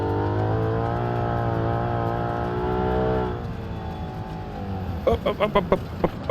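A car in the BeamNG Drive video game runs on a gravel road up Pikes Peak, its engine holding a steady, strained drone before easing off, then a quick run of sharp clattering bursts; a voice speaks briefly.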